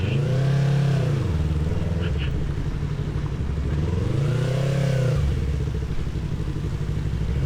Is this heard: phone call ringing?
no